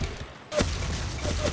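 Gunfire in the video game Ace of Spades 2 comes as a burst of sharp shots, a loud crack followed by quicker repeated reports, with some game background noise.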